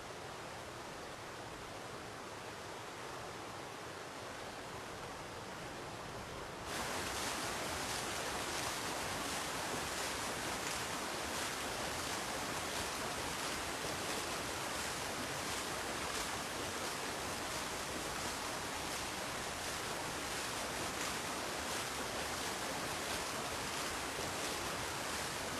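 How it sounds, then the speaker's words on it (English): River water flows and churns steadily around an old water wheel that pumps water to rice fields in Japan, a continuous broadband rushing that grows noticeably louder after the first few seconds and stays constant to the end. "The flow of the river turns the water wheel and pumps the water."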